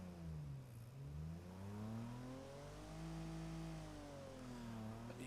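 An engine runs on a dyno, holding a steady drone that rises and falls in pitch with gentle revving, distant and muffled, with no clear popping standing out.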